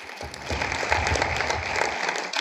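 An audience at a school Model UN inauguration applauds in a brief, even burst of many hands clapping, starting and stopping abruptly.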